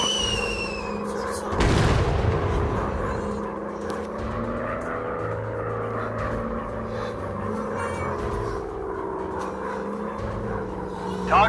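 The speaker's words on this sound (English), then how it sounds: "Dropping bomb." A bomb blast in a warplane combat game, one loud booming burst early on, set against steady aircraft engine drone and a game voice calling out targets.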